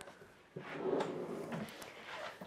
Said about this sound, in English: soft close, and so are our cabinet drawers as well